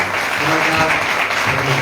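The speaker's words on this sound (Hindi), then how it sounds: "जोरदार ताली बजाएं।" A church congregation applauds loudly and continuously in a brief burst of many hands clapping, with a voice faintly present beneath.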